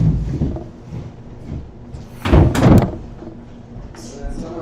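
A door opens and closes with a loud wooden bang and rattle partway through, close by, while people talk around it.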